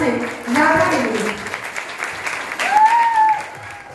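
Crowd applause for a performer at a Women's Day celebration, broad clapping rising at mid-length, with voices and a tonal line over it near the end.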